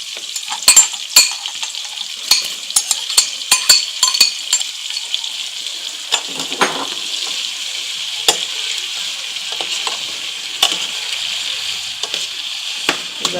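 Onion and garlic simmering in a pan while cooking a pumpkin seed and smoked fish dish, a steady close sizzle with frequent sharp clinks and scrapes of a utensil stirring against the pan, no talk.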